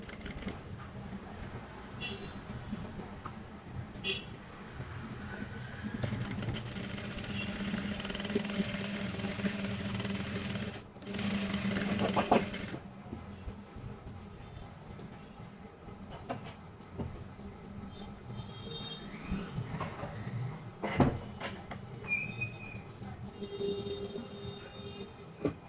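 A home sewing machine stitches a blouse neck band with a faint mechanical run and rattle, steadier and louder in the middle stretch, without speech.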